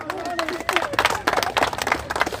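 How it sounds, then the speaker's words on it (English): Crowd at an outdoor immigration protest in Falkirk claps and cheers in a dense burst of applause, loud and steady throughout, with voices and shouts mixed into the clapping. "Give yourself a round of applause."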